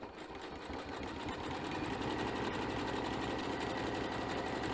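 A sewing machine stitching a rope bowl runs at a fast, steady mechanical chatter with a rapid rhythmic pulse, continuous and close, with no talk.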